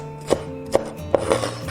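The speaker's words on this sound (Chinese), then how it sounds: "葱白切小粒" Knife chopping scallion whites into small pieces on a board, a few sharp separate chops spaced unevenly, close and fairly loud with a short resonant ring on each strike, no voices.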